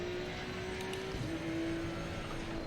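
GT2 race car running at the Zandvoort circuit, a steady sustained engine drone with a held tonal pitch that shifts slightly partway through, continuous and fairly loud with no voices.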